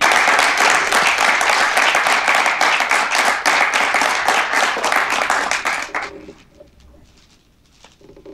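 Dense, steady applause from an audience at an award felicitation fills the room for about six seconds, then cuts off abruptly into quiet, with faint scattered sounds left at the end.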